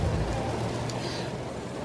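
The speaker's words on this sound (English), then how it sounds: "it's raining so freaking hard out there" Heavy rain pours down steadily during a bad summer thunderstorm, a dense continuous hiss with low rumble and no voices.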